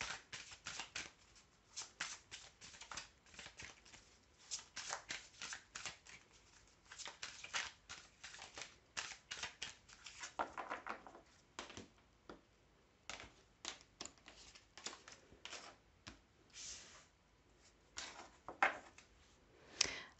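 Tarot cards being shuffled and drawn by hand, a rapid stream of crisp, close card slaps and riffles with short pauses, faint and alone.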